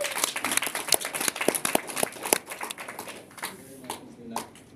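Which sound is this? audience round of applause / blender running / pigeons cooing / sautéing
audience round of applause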